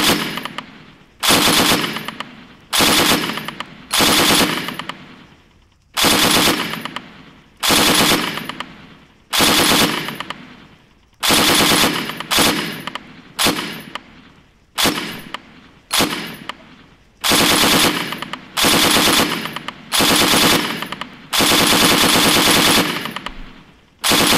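Loud, close MG5 machine gun fire in the video game Arma 3, fired at pop-up targets in repeated bursts of varying length, separated by short pauses, continuing throughout.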